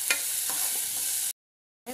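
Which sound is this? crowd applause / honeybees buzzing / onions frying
onions frying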